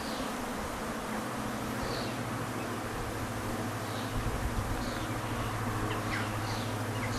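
A steady, dense buzzing of many honey bees close by, continuous throughout with a low hum underneath, no voices.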